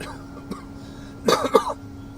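Two quick raspy coughs close together over a low background hum, with a faint earlier click.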